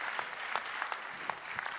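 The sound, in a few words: applause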